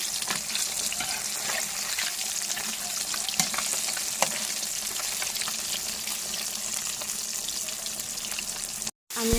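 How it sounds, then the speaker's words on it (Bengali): Fish frying lightly in oil in a pan, a dense, steady hiss of sizzling with scattered pops and crackles, close and constant, briefly cutting out near the end. "মাছগুলো বেজে নিতেছি একটু হালকা করে"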